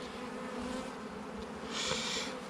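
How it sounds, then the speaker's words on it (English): Honey bees buzzing close by during a beehive inspection, a soft continuous drone with one bee swelling nearer and louder toward the end, with no talking. "I've got 2 other bees in there with me"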